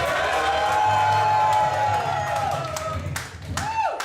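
Studio audience claps and cheers for a contestant introduced from Australia on a travel show, a steady dense wash of applause with whoops rising near the end.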